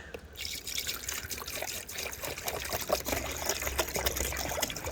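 Water trickling and splashing steadily as it is poured into an orange plastic ammo can poultry waterer, a continuous close, moderately loud pour with no talking.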